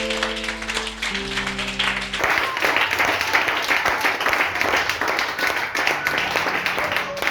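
A church congregation bursts into sustained applause and clapping, loud and dense, following a stretch of music at the start.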